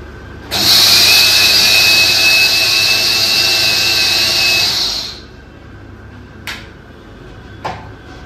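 Electric mixer grinder pulverising cumin and coriander seeds, a loud high whine running about four seconds before cutting off, followed by a couple of faint clicks.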